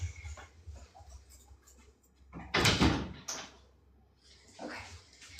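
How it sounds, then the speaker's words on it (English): A door behind a person at home is pulled open, a brief loud scrape and rattle in the middle, with softer shuffling and handling noises before and after. "I am going to open this door behind me"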